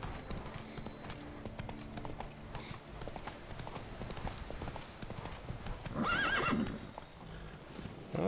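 A horse in The Witcher 3: Blood and Wine trots with rhythmic clip-clopping hooves, then gives a loud, rising whinny near the end, with game ambience underneath.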